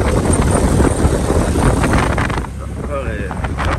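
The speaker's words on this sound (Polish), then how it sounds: "Ale za duży wiatr." Loud, constant wind buffeting the microphone, a roaring rumble that eases slightly near the end while a faint voice speaks.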